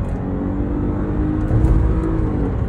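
A Lexus IS 250 engine with its stock exhaust hums steadily and close, the revs swelling slightly midway before settling, with no voices over it.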